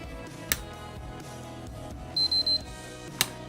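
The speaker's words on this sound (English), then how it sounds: "So it's still triple beeping, I'll let it sit for a bit longer." A device on standby power gives a short burst of three quick, high electronic beeps, clear and close, framed by a couple of sharp clicks over a low steady hum, with no talking.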